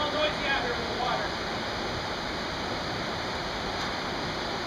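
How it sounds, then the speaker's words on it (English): Loud, continuous rush of water outdoors, a broad steady roar of a nearby stream or cascade, with faint speech briefly audible at the start beneath it. "I think it's a little noisy with all the water."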